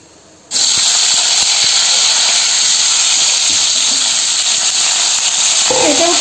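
Vegetables dropped into hot oil left over from frying raw plantain, a loud, steady sizzling hiss that bursts in abruptly and holds close up for about six seconds, with a faint clink near the end.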